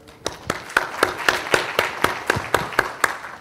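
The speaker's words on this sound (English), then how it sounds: "round of applause for Gigaspace," Sparse applause from a small audience at a tech conference on OpenStack tools, with about a dozen distinct claps in a steady, slightly uneven rhythm, fairly close and moderately loud, with no talking.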